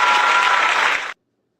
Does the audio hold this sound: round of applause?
yes